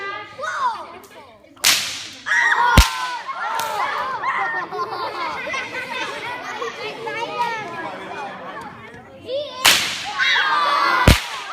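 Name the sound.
bullwhip cracking, Indiana Jones style whip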